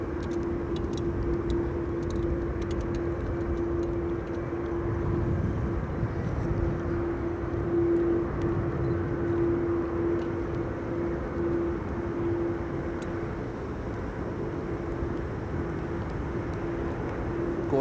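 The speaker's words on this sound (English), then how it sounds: "787-10 Dreamliner landing on the small Schiphol Oostbaan, runway 22" A Boeing 787-10 Dreamliner lands on Schiphol's short Oostbaan runway 22 during a storm, its engines a steady, broad roar with a sustained whine, heard from a distance over gusty wind with no talk.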